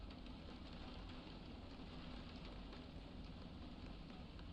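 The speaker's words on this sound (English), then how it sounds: "why does it sound like it's raining? But it's not by me. It's the game!" Steady rain from the cozy café game Coffee Talk patters softly and evenly in the background, a faint uniform wash with no breaks or voices.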